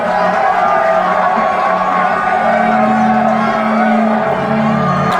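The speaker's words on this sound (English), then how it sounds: "I hear cheering." A crowd cheering in a TV drama scene, a steady, loud roar of whoops and shouts with sustained tonal voices rising and falling throughout.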